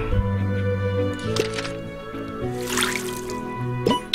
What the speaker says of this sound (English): Ooh, here's something we can water.